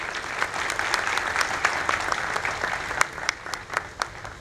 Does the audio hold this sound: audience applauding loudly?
yes